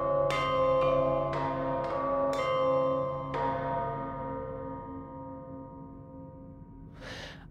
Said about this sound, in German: Also die große Glocke wird ganz am Ende gespielt.